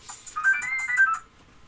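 A phone ringtone plays a short, bright electronic melody for about a second, close and clear, then cuts off.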